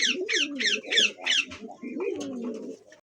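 Pigeons from a pair of fancy breed birds cooing close by, rolling repeated coos layered with sharp chirping bursts, loud and continuous for about three seconds with no talking.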